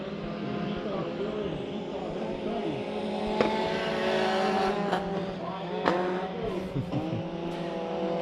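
Mini stock race cars in a heat race at Bakersfield Speedway roar around the track. Layered engines drone and whine continuously, with cars passing close and a few sharp pops or bursts cutting through.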